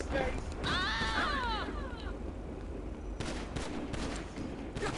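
Gunfire from a police officer in GTA Online: a dense, steady barrage of shots heard loud and close over constant background noise, with sharper bursts near the end.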